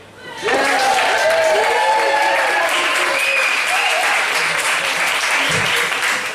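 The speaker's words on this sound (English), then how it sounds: "Could we have a big round of applause for Chelsea?" An audience at a stage hypnotist show at Birmingham University breaks into loud, sustained applause for a woman named Chelsea, starting abruptly after a brief quiet and continuing as a dense wall of clapping.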